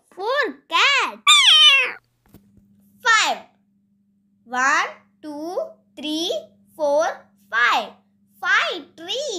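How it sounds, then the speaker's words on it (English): A cat meows repeatedly, about a dozen close, loud rising-and-falling calls in an uneven rhythm with short pauses between them. "Four cats."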